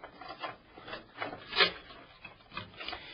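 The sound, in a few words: motherboard power supply connectors being fed through and plugged in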